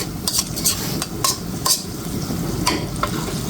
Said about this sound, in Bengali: আমি মশলার সাথে আলুটা একটু কষিয়ে নিচ্ছি।